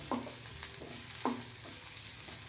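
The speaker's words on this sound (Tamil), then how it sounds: "ஒரு மூணு நிமிஷம் வதக்கினா தான் ப்ரௌன் கலராக வரும்" Ingredients for mutton gravy being sautéed until brown in a pan, with soft background sizzle and two distinct scraping stirs of a spatula, quiet and close.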